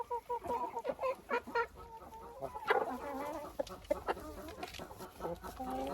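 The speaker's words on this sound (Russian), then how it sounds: "Вот так определяют хорошего петуха." A rooster kept with young cockerels clucks in a steady run of short, close, harmonic calls, loud and alone without any talk.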